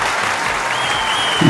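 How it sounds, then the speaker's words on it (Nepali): An audience at a Gaijatra comedy show gives dense applause as comedians take the stage, a steady close clatter of many hands with a rising burst at the end. "स्वागत गरौँ मदन कृष्ण श्रेष्ठ र हरिवंश आचार्यलाई जोरदार तालीको साथमा।"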